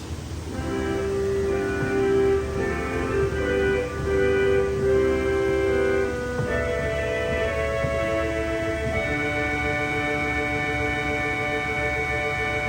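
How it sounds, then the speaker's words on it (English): A vox humana reed stop on a three-manual pipe organ plays sustained, slightly buzzy notes in a slow sequence, with soft room rumble underneath. "the next speaking stop is a reed. It is a vox humana."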